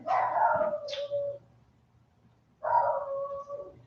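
A dog lets out two drawn-out, tonal barking howls, each over a second long and separated by a short pause, heard clearly indoors at moderate distance.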